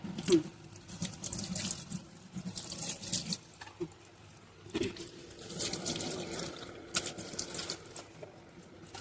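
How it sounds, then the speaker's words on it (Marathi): A kitchen tap running into a sink while dishes are rinsed, with a steady close water flow broken by splashes and clinks of plates under the stream. "सो पाणी चालू करते"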